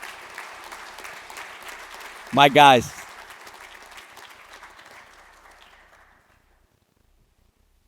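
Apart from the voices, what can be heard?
audience applause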